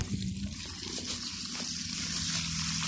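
A strong stream of water gushes from the one-inch pipe of a solar-powered pump, a steady close rushing flow that holds even for three seconds.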